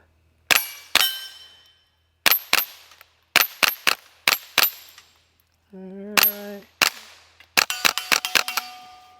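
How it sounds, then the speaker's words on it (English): A Thompson Center TCR 22 rifle fires about fifteen sharp, loud rimfire cracks at close range in quick, uneven bursts, with short pauses between groups and one ringing metallic shot near the middle. "You will not get that last shot bolt hold open, but I will show you that they will work and work fine. So 15 rounds."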